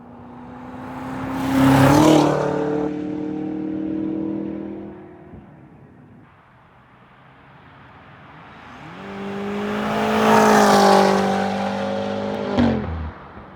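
Stunt cars in the film Tenet roar past twice, each engine swelling loudly with rising revving tones, then fading away before the next one approaches and passes close with a sharp burst at the end.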